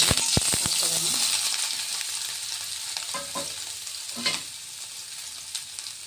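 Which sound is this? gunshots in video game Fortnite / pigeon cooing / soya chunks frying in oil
soya chunks frying in oil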